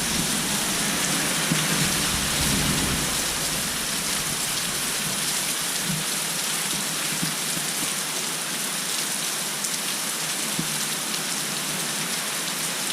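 Heavy rain from a gentle thunderstorm pours steadily, a dense hiss of drops drumming on a back deck and overflowing gutters, with no voices and only the faintest hint of distant thunder.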